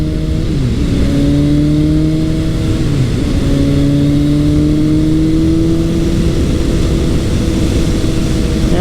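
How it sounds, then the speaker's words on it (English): A Suzuki GSX-S750 motorcycle engine holds a steady, loud drone while cruising at highway speed, its pitch climbing gently with brief dips between gears, under constant wind rush and with no talk. "I'm cruising along right now at essentially highway speeds, and it's just very minimal vibration"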